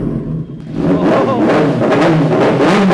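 A 2024 Kawasaki ZX-10R motorcycle fitted with an Arrow exhaust starts quietly, then revs hard into a loud, sustained, throaty roar with rising and falling pitch.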